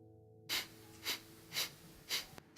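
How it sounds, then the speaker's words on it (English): Yoga breath of fire (Kapalabhati) practice: four short, forceful nasal exhales at an even rhythm, each a close, breathy burst with quiet pauses between, then a faint click and a fifth exhale starting at the end. "So breath of fire, here we go. Inhale. And short exhales through the nose."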